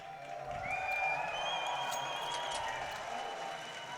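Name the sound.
esports arena crowd cheering for Fnatic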